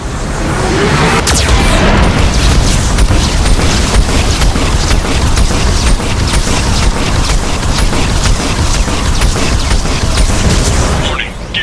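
Geth cannon blasts and explosions from the video game Mass Effect 2, loud and relentless, with dense booming bursts and rapid mechanical fire that continue without a break for about ten seconds before cutting off.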